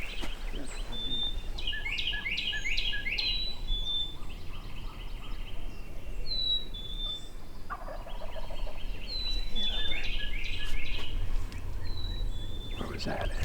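A wild turkey hen calls from some distance in a public-land spring woods, with a series of quick, high yelps and clucks over a faint background.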